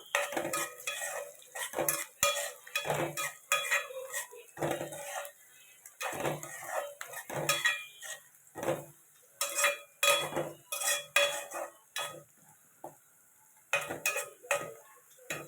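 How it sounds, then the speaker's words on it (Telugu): Chopped onions fried in oil in a pan, with frequent metallic clanks and scrapes of a spatula against the pan over a faint sizzle, close up and without talk. "ఫస్ట్ ఉల్లిపాయ పచ్చడిగా వేపుకోవాలండి నూనెలో వేసుకొని"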